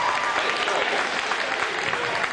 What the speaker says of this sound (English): Earning some well-deserved applause.